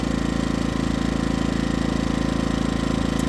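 A Coleman Powermate PM2000 generator runs steadily with a constant, loud, close mechanical drone and no pauses.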